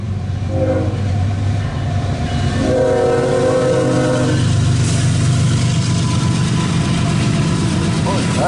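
A loaded CSX coal freight train rolls past with a heavy continuous rumble of wagons and wheels on rails, and a horn sounds in the first few seconds.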